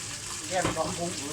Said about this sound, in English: So we're going to strain that. We're going to strain that water.